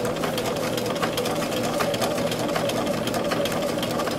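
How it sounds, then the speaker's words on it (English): A sewing machine runs steadily while stitching a sleeve placket, a continuous close motor hum and needle chatter with no breaks. "And then you continue to stitch."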